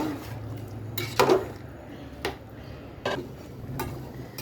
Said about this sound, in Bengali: ওই মাংসগুলো নেড়ে একসাথে মিশিয়ে নিচ্ছি